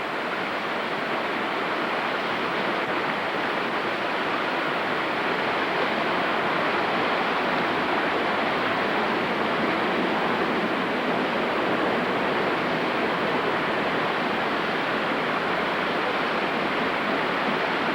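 Flowing water rushes steadily at a mountain site in North Carolina, a constant even hiss and roar with no breaks and no voices throughout.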